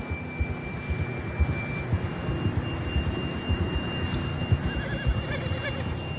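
A horse neighs in Red Dead Redemption 2 amid a low steady rumble of hoofbeats and movement, with a thin steady electronic tone running underneath.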